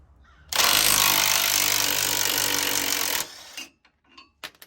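An impact wrench hammers loose a 13/16 shock bolt on a truck during a lift install, one loud continuous rattling burst of about three seconds, followed by brief clanks and taps.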